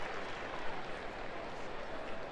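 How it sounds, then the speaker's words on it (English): A farewell ovation for Todd Helton fills Dodger Stadium during a baseball game, a steady, faint wash of crowd applause and cheering heard from a distance without pause. "Todd got a lovely farewell ovation from the crowd here at Dodger Stadium."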